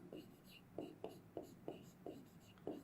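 Marker or chalk strokes on a board while algebraic expressions are written out for a Class 7 maths lesson, a quiet, regular series of short scratchy taps with soft speech underneath.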